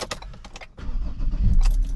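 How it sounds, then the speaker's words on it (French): Car key jingling and sliding into the ignition of a car with a 3.2-litre 200-horsepower TDCi diesel engine, a few close metallic clicks and rattles followed by a low steady rumble. "on va insérer la clé ici"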